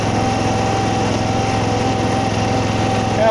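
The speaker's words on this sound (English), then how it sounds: "This is a Smithco bunker rake instead of the John Deere that I used in" The engine of a Smithco bunker rake on a golf course runs steadily with a loud, even drone and a high whine, nearby and with no talking.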